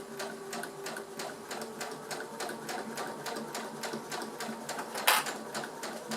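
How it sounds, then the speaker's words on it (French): A domestic sewing machine runs steadily, its needle tapping in a fast even rhythm as it stitches a circle of fabric for a small drawstring pouch, with one brief sharper clack near the end; close and moderately loud, no talking. "C'est parti pour la couture."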